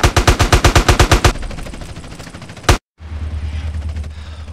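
Rapid, loud, evenly spaced bursts of automatic gunfire from the video game GTA San Andreas, followed by a rattling spray of shots, a sharp final blast, a brief silence and then a low rumbling engine-like background.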